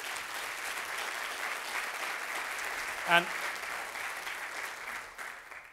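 Audience applause fills a medical college's state-of-the-school address, a steady even wash that holds and then fades near the end, with a brief spoken word cutting in midway.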